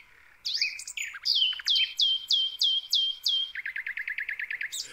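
Birds chirp in hedges and trees, giving a lively run of bright, clear whistled notes: first quick swooping calls, then a steady series of evenly spaced chirps ending in a faster trill. No voices are heard.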